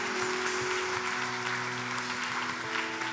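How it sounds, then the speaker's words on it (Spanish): Congregation at a church sermon claps in steady, moderately distant applause that carries on evenly for a few seconds, with no talking over it. "Dale un aplauso."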